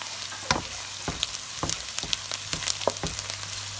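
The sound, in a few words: chopped onions frying in butter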